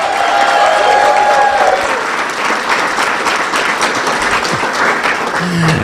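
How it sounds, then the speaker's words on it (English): A hall-of-fame awards audience at DWU's performing arts hall applauds and cheers for the dining staff: loud, sustained clapping from a large crowd, with brief whistles or voices rising above it. "If we cheer loudly enough, hopefully they'll hear us"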